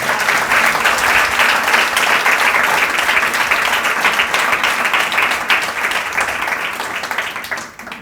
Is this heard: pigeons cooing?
no